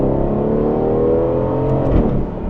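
Lamborghini V10 engine in an Audi saloon revving hard, a loud sustained growl with rising and falling harmonics from close by, with no talk over it.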